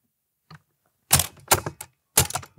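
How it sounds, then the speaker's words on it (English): Top cover of a .303 Browning aircraft machine gun being opened, giving a faint tap and then three loud, sharp metallic clacks and snaps in close succession, heard up close without talk. "We open the top cover."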